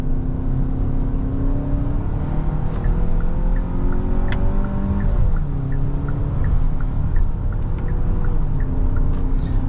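Steady engine drone from a 2023 Hyundai Santa Fe SUV with the 2.5 engine and 8-speed automatic, rising in pitch under acceleration, dipping at a shift, then climbing again, loud and continuous throughout.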